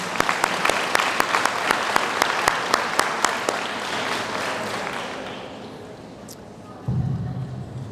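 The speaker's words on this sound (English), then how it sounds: "Can we have another round of applause for all our new hires?" An auditorium audience at a school district convocation applauds new hires, a dense wave of clapping with sharp individual claps that gradually thins and fades out, followed by a low murmur and rustle.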